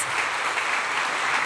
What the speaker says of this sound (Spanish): Why don't you give the Lord a round of applause?